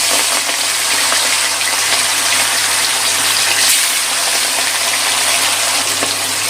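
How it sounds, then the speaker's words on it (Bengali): Catla fish sizzles loudly in hot oil, a continuous bright crackling hiss that stays steady throughout, with a low hum underneath. "গ্যাসটা কমিয়ে দিয়ে মাছটা তেলের মধ্যে দিয়ে দিলাম।"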